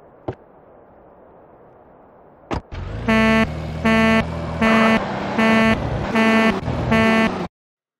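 A car alarm goes off on a Patriot being stolen in GTA San Andreas: a couple of sharp clicks, then a loud pulsing electronic wail repeating about six times in steady bursts before cutting off abruptly.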